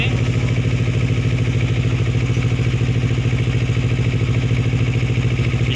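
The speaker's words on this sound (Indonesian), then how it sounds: "Jadi motor tetap hidup dengan menggunakan aki ya" A Kawasaki Ninja 250R FI motorcycle with a stalling fault idles on battery power, its engine giving a loud, close, evenly pulsing drone that holds steady from start to finish with no talk over it.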